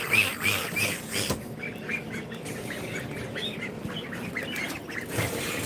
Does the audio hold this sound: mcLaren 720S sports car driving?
no